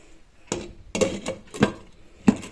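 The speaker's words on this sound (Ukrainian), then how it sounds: "Домиваю посуд" Dishes and utensils clatter at a sink, a few sharp clinks of crockery spaced irregularly over a soft background of running activity.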